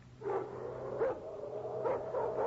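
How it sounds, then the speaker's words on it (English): Doberman pinscher attack dogs bark at a distance in several rough, spaced bursts over a steady low hum. "Hey, those are Doberman pinchers."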